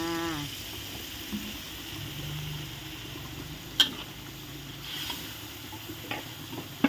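Chicken curry with pickled bamboo shoots and boxed coconut milk being stir-fried in a pan: a soft, steady sizzle with stirring scrapes and a few sharp clinks, fairly quiet and close, with no talking.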